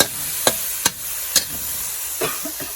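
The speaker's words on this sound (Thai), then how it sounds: "แล้วก็มาคั่วคั่วน้ำพริกนะคะให้มันมีกลิ่นหอมก่อน" Curry chili paste dry-roasting in a pan, with a steady faint hiss broken by four or five sharp scraping strokes of a spatula and a few softer scrapes near the end. No one speaks.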